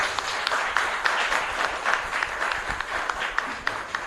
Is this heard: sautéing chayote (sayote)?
no